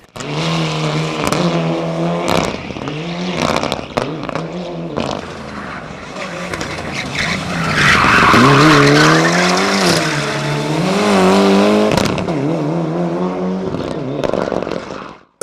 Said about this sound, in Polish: na prawym fotelu samochodu rajdowego przewiózł prezydenta miasta Świdnicy Wojciecha Murcka